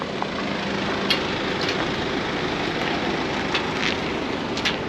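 Harley-Davidson Road Glide ST with a 131 Stage 4 engine rumbles continuously while riding, a loud, dense roar blended with heavy wind noise and a few faint ticks, no voices.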